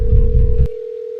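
A loud steady telephone tone in the video game Hello Neighbor, a single sustained pitch over a rumbling low layer that cuts off abruptly, leaving the tone alone.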